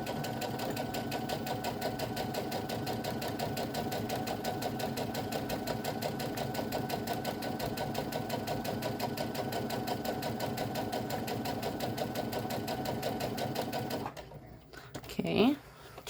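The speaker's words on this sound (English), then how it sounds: "now I will sew around this square" A sewing machine stitches steadily around a fabric square for an iPhone pocket, its rapid even hum running loud and close for most of the time before stopping, followed by a few brief handling sounds.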